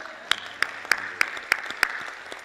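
At the APAP NYC 2019 plenary session, six crisp, evenly spaced claps ring out at a steady rhythm over a low room hiss, close and distinct rather than a dense crowd roar.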